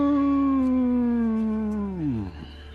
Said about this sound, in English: This bestial howl, like the hounds of hell.